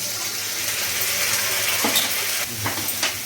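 Cumin and ginger paste sautés in a pan, giving a dense, continuous sizzle with occasional scraping stirs and a few brief clicks.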